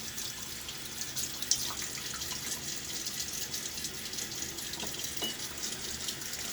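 Tap water running at a sink while preparing wet shaving lather with a Klar sandalwood soap, a steady hissing stream with small splashes and drips, moderately close and continuous, with no voices.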